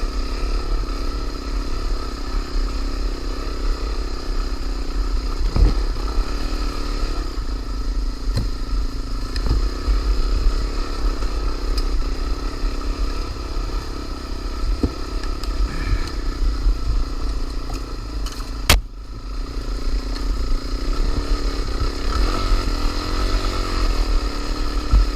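A DRZ400 motorcycle engine drones steadily as the bike climbs a sandy hill on a Cape York trip, a sustained close revving hum with a sharp clack near the end and no voices.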